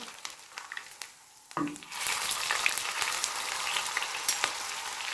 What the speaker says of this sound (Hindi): अब मैं इसके अंदर टिक्की ऐड करती हूँ और अब इसको मैं लो आंच पे इसी तरह पकाने के लिए रख देती हूँ